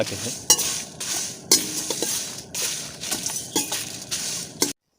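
Spices lightly fry in a pan for beans palya, with steady sizzling broken by several sharp clinks and scrapes of a stirring spoon against the metal, close and fairly loud, then cut off abruptly.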